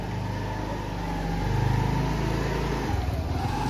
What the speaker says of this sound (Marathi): गाडी येत आहे